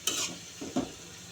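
Prawns go into a hot pan for a prawn and Malabar spinach dish, giving a faint, brief sizzle with a couple of soft stirring or utensil knocks, close and without any talk.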